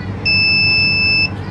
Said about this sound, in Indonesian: Ada notifikasi suara.